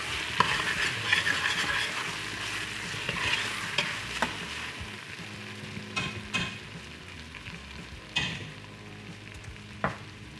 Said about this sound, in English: we're going to let this cook for a couple more minutes. We're going to stir this often